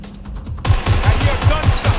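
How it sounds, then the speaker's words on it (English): Rapid gunfire in the video game Watch Dogs Legion, a loud regular burst of shots that starts abruptly and keeps a steady rhythm, close and dominant. "I hear gunshots."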